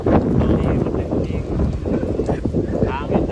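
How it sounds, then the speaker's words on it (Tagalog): Steady, roaring wind from Typhoon Fung-wong (Uwan) buffets the microphone in heavy gusts beside the Marikina River, with voices talking faintly underneath. "Ang lakas ng hangin mga kaibigan."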